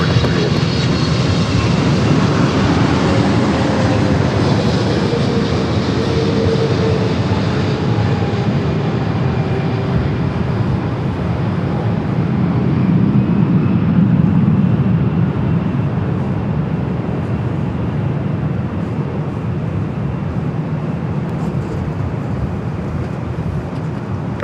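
A Delta jet roars steadily as it takes off from runway 24 left at LAX, a loud, sustained engine rumble with a faint whine that holds for the whole stretch without voices.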